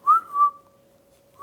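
A person tries to whistle, giving a couple of short, close, thin whistled notes that fade, then a brief final chirp.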